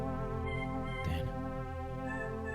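A cat meows in a video game, a sustained tonal cry set against a steady droning game background.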